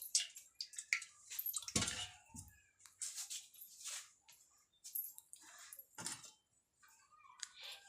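Puja plates and a small ritual lamp being washed by hand with water, giving soft irregular splashes, drips and light clinks of metal, close and fairly quiet with no talking.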